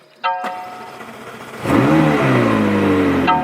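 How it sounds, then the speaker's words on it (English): A 2019 McLaren 600LT engine cranks and catches via push-button start, then roars up into a loud, sustained rev that settles into a throaty idle, close by. "So then with the engine start button, my foot on the brake."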